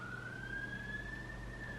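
A police or ambulance siren passes outside, a single steady wailing tone that slowly rises in pitch over a constant low traffic rumble, moderately distant and continuous for the whole stretch.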